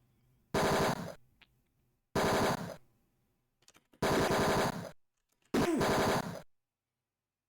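Four loud bursts of rapid automatic gunfire from the 1989 video game Tex Murphy: Mean Streets, each lasting about half a second to a second, separated by short gaps with faint shuffling between.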